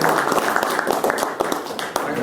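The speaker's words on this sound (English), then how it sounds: "let's give these guys a round of applause" An audience at a sailplane repair workshop claps in a dense, brisk patter of overlapping hand claps that stays fairly loud and even for a couple of seconds.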